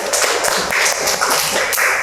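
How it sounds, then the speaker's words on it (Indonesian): A classroom group gives applause for the Matahari team, a dense, loud, continuous patter of many hands clapping close by with a few sharper accents. "tepuk tangan untuk kelompok matahari"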